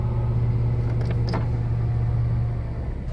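A Hyundai Accent with about 135,000 km on it idles while warming up just after starting, a steady low engine hum with a faint whine, heard from inside the car.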